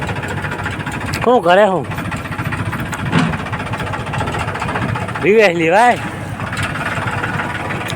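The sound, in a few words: JCB excavator engine running on the road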